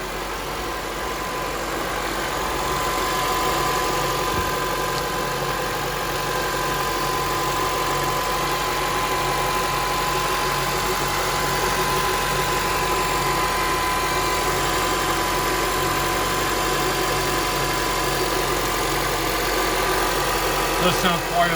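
A Honda CR-V engine idles steadily after a cooling system overhaul, a continuous even hum with faint mechanical ticking, while a voice talks briefly over it.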